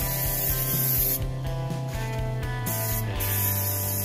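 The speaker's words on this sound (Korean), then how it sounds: "붓으로 하는 것보다 스프레이를 하면" A spray gun hisses steadily while painting furniture in a home refinishing job, a loud continuous spray with short pauses between passes and a rhythmic low mechanical pulsing underneath.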